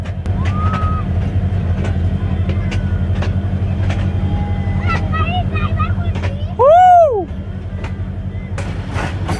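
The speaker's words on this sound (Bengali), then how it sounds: "এই যে রেল লাইন চেঞ্জ হয়ে আমরা এখন 1 নম্বর রেল লাইন দিয়ে যাচ্ছি" Passenger train on a Bangladesh rail line rumbles steadily underneath, with scattered squeals and chirps over the running noise and a short loud whistle-like swoop near the end; a voice talks over it.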